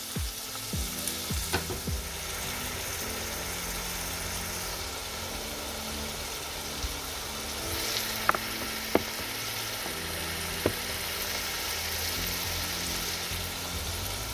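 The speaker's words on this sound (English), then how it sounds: "now we're gonna go in with the pork mince. And we're gonna leave it to cook" Pork mince frying in melted pork fat with onions for a Transylvanian cabbage dish, a constant even sizzle throughout, with a few sharp clicks and knocks early and again near the end.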